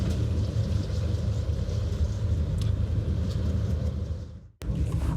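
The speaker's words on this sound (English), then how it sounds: "I just passed a Dodge SRT-10 pickup truck." A Dodge SRT-10 pickup, the full-size truck carrying a Viper V10, rumbles loudly close by as it is passed on the road, the engine roar holding steady before cutting out abruptly near the end.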